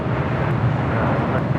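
An Asiana airliner rolls down the runway at LAX. A steady, loud broadband engine roar with wind rumble continues without a break and without any voices.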